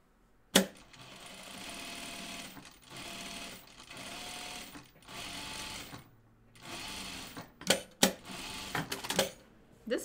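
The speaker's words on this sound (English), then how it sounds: "now I'm going to top stitch them down." A sewing machine top stitches through jeans fabric in several bursts of fast mechanical whirring, close and fairly quiet, separated by short pauses and a few sharp clicks.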